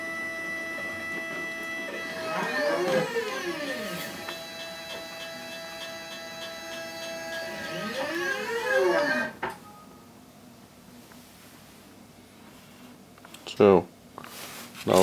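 CNC machine running, with sweeping whine sweeps rising and falling as the axes move twice over several seconds, then quieter hum and a brief sharp clatter near the end.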